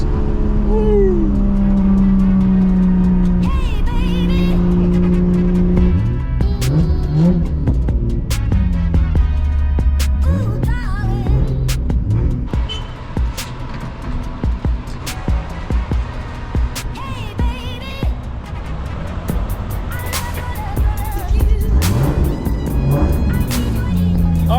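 A 600hp MK4 Supra with BC Racing coilovers is driven gently on the road. The engine drones loudly and revs up and down through shifting tones, with clunks and rattles from inside the cabin.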